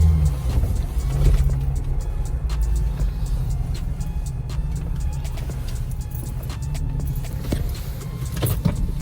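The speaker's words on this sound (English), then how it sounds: "Just driving around town trying to check out the exhaust." Jeep JKU with a 3.6L engine and Dynomax Ultra Flo cat-back exhaust cruising through town, a steady low exhaust rumble heard from inside the cabin with a few faint clicks and rattles.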